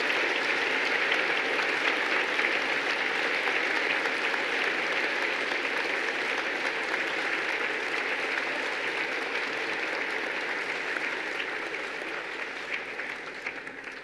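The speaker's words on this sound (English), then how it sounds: "give them a big round of applause and send them your love and thanks" Sustained applause from a graduation audience for veterinary and veterinary nursing graduates, a steady dense clapping that holds for the whole stretch and tapers slightly toward the end, with no talk over it.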